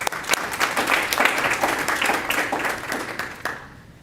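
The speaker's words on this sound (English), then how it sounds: "Now we clap." An audience at a school district board of education meeting applauds steadily for about three seconds, a full burst of clapping that thins and fades out at the end.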